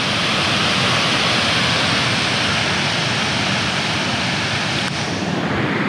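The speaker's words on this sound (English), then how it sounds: "This is a waterfall." A roadside waterfall gives a loud, continuous broadband rush of falling water, steady and close throughout, with no voices heard.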